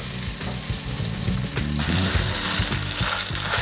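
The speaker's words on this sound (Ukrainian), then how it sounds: "М'ясо необхідно обсмажити до золотої скоринки з кожної сторони, вогонь вище середнього." Loud, steady sizzling of meat frying in butter and sunflower oil over above-medium heat, a continuous crackle and spatter with occasional clinks of a utensil against the pan.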